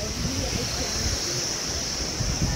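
A waterfall roars in a constant, broadband rush on the route from Baglung to Muktinath, heard close with wind buffeting the microphone and a crowd of people faintly present.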